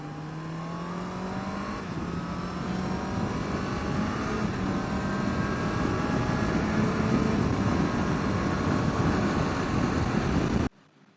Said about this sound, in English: we just shifted through all 6 gears on throttle without letting off or using the clutch